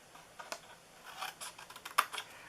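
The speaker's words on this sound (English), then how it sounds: "we are going to cut this piece. And I like to just cut down here" Scissors cutting a piece of card for a treat box, a short run of soft, quick snipping clicks up close with a sharper cut near the end.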